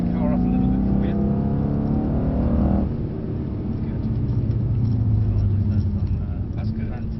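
A Mercedes C63 AMG engine revs and pulls on a track at Mercedes-Benz World, a loud rising engine tone that drops off, then settles into a steady drone while a voice talks over it.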